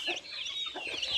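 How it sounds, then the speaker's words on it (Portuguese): A broody hen clucks in a farmyard, giving a few short, fairly close clucks in quick succession with no talking over them. "Essa galinha tá choca de tudo"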